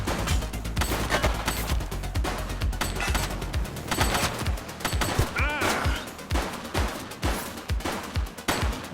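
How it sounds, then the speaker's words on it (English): Gunshots in the police game The Precinct crack out in rapid, dense volleys, loud and close, with a steady stream of sharp reports running throughout and some game voices mixed in. "Shots fired!"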